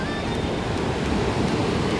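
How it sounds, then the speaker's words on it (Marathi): Water rushes in a constant, loud wash at the Manikaran hot spring in Kasol, Himachal Pradesh, where hot and cold streams run side by side; the roar is steady, close and unbroken, with no voices. "हे आहे कसोलचं मणिकरणचं हॉट वॉटर स्प्रिंग."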